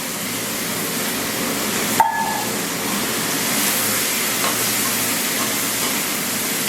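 Green beans tipped into a pan of sizzling tempering with dried chili and curry leaves, a sharp clatter at the drop followed by a steady, broad frying hiss that carries on alone without voices.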